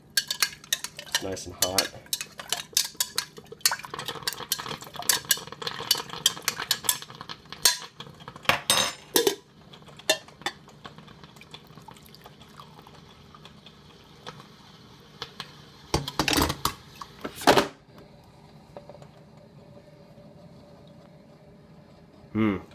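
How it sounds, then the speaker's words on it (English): A spoon stirs honey into a hot homemade decongestant drink of lime, citrus and cayenne in a pot, giving scattered clinks and scraping bursts against the metal. Someone talks over much of it. "I'm going to stir this up just to make sure all the honey is in there"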